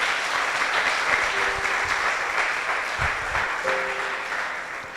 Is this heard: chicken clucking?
no